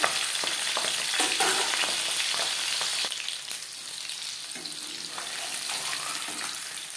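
Pabda fish pieces turned over and frying in oil in a pan, a continuous close crackling sizzle with occasional utensil clatter and a brief dip in intensity midway, with no one talking.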